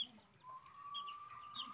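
A young rooster, bred from a crossbreed hen and a giant Indian game cock and recovering from broken legs, gives a soft, faint cluck and a drawn-out thin call, close by against quiet background noise.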